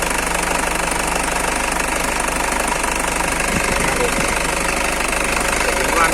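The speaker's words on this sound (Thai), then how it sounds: "เสียงเครื่องหวานมาก" The engine of a 2001 Isuzu Dragon 2.5 SX pickup runs at a steady idle with an even, continuous rumble, loud and close. A voice talks faintly under it.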